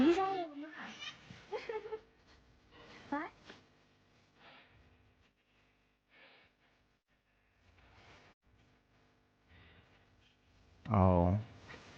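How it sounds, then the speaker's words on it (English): A domestic cat meows once, loud and close, near the end, with a few fainter sounds earlier; people talk during the first seconds before it. "Being a good sleepy kitty?"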